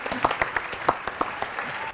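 Studio audience clapping on a French television talk show set, a scattered round of claps with distinct sharp hand strikes standing out, fairly close and moderately loud, with no one speaking over it.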